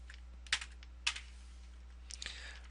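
Typing on a computer keyboard: a few soft, sparse key clicks in quiet, with two sharper taps followed by a short cluster of lighter presses.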